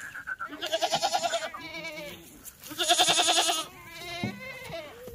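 Kathewadi goats crowded in a livestock truck bleat loudly and repeatedly at close range, with harmonic calls overlapping in two strong bursts and a few softer cries between them.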